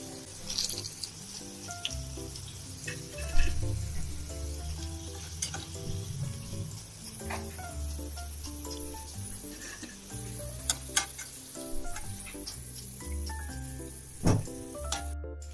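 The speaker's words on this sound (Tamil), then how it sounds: "எவ்வளவு கிறிஸ்பியா ஃப்ரை ஆயிட்டு இருக்கு" Sweet corn pakoda deep-fries in hot oil with a close, busy sizzle full of scattered crackles and pops. Occasional utensil clinks sound in the kitchen.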